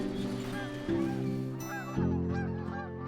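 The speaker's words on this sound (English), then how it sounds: "The geese are returning after a long winter, and many Cree people return at the same time." Geese honking repeatedly in overlapping calls during a traditional Cree spring goose hunt, close and steady over a low background hum.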